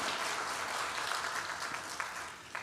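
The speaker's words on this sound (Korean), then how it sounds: "큰 박수로 네, 환영하겠습니다" A church congregation at a Sunday service applauds to welcome a visitor, a soft, steady wash of many hands clapping heard from a distance, with a few sharper claps standing out near the end.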